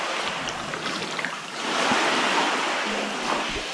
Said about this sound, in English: We've got a river running down the rocks.